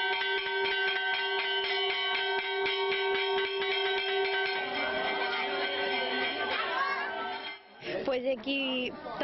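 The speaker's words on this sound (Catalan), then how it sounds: "Pues aquí tocant les campanes" Church bells ring continuously at the start of the patron saint festival in Biniamar, in a dense, clanging peal that overlaps and fills the air, fading into scattered clatter near the end.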